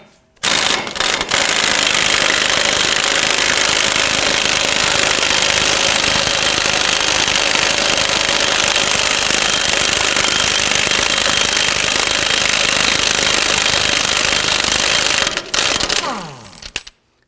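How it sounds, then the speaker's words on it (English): A pneumatic impact wrench with a 32mm socket loosens the front axle nut on a 2008-2011 Ford Focus, hammering loudly and continuously for about fifteen seconds before stopping, followed by a brief ratcheting spin-down. "we're going to loosen and remove our axle nut."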